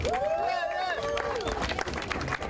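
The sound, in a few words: crowd applause for the next speaker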